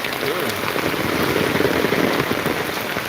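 Heavy rain pours down and patters densely on an umbrella overhead, a close, loud, continuous wash with faint voices underneath.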